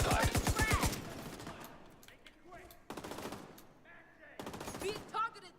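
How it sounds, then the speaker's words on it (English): Rapid bursts of automatic gunfire in a VR shooter game, a dense rattling volley at the start and further bursts later, with game voices speaking between them. "Being targeted with suppressive fire!"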